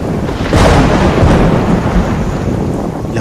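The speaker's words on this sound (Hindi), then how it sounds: "लगता है तूफान आने वाला है" A thunderstorm with a heavy thunder rumble rolling over steady, dense rainfall, loud and continuous throughout.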